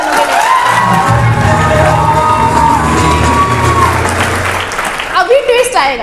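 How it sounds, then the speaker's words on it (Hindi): Students in a classroom burst into loud clapping and cheering, a dense sustained crowd roar with shouts over steady applause, then fading into scattered voices and talk near the end. "जोरदार तालियां भाई 10 मिनट वालों के लिए।"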